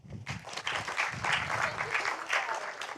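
An audience at a townhall applauds its panelists, a crowd of hands clapping steadily and fairly close, with a voice briefly audible at the start.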